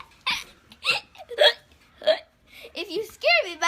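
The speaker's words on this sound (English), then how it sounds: "If you scare me, my hiccup will go away." Repeated hiccup-like vocal bursts, five or six sharp voiced gasps spaced about half a second apart, close and fairly loud, with a short exclamation near the end.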